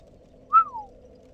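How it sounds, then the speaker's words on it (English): One sharp, loud whistle, a brief high note that bends downward and fades within a second, heard alone against quiet background. "Sorry, that whistle was probably really loud in your ear."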